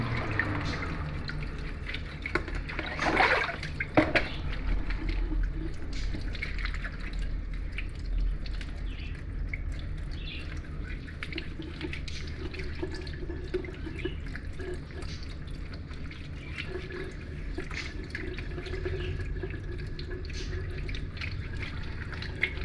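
Tap water runs and drips steadily into a sink while something is rinsed in a home kitchen during bread making, a continuous moderate wash with brief splashy bursts near the start.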